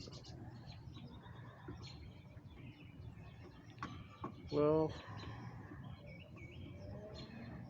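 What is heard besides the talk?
birds singing behind the house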